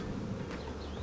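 Honey bees hum in a steady, close, dense buzz at an open hive during an inspection, unbroken for the whole moment with no voices.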